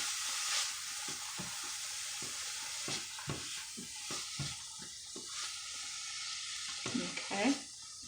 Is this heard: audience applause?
no